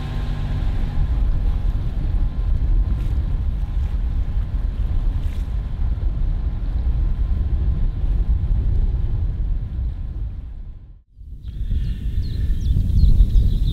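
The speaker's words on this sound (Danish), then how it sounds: "Så nu sejler Sasha båden ind igennem Præstø Fjord" Sailboat moving through Præstø Fjord, heard as a steady loud rumble of wind and water rushing past, broken by a brief dip before resuming, with faint creaks and tones.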